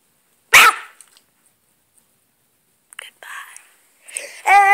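A small dog gives one sharp, loud bark near the start, then goes quiet while soft whispering and a few voices follow.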